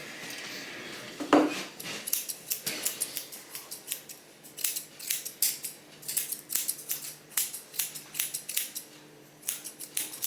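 Scissors trim a cockapoo's hair around its eyes in a rapid run of close, crisp metallic snips, mostly in quick irregular bursts, with no talk.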